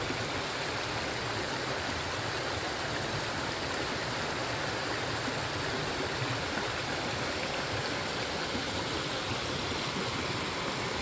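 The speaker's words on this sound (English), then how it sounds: "And yeah, this water just rushes right along." A clear stream rushes steadily over rocks in a wooded state park, a continuous broadband wash of water that stays even and close for the whole stretch with no voices.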